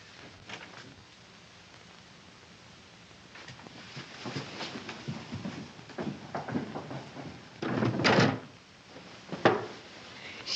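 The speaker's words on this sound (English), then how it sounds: "She's got the door locked. I tried it." A locked door being tried in a film: a few wooden rattles and knocks of the handle and frame, faint and scattered, growing louder toward the end, with no voices.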